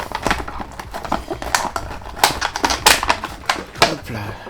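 Cardboard Funko Pop box being opened up close, a string of sharp tapping, scraping and tearing noises in quick irregular bursts, with a few faint vocal sounds in the background.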